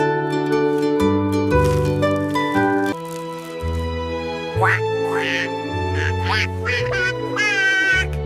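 A duck quacking repeatedly at close range, loud and clear, the calls coming in an uneven series.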